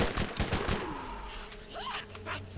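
Rapid SMG bursts in the video game Borderlands, a quick run of sharp shots up front, then lighter pops and game effects over a low rumbling background.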